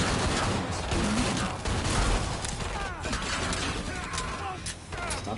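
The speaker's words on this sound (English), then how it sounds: "Stop shooting at me" Rapid gunfire bursts in Killing Floor 2 on PS4, dense and continuous across the clip, mixed with game effects and players talking over it.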